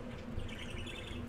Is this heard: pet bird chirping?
yes